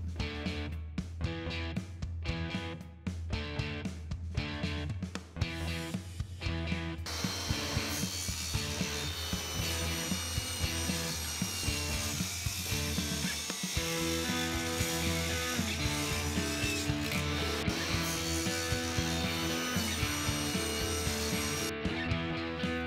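Table saw ripping wooden boards lengthwise into 30-inch by 3-inch strips, a continuous loud grinding whine running steadily for most of the stretch after several short cuts at the start.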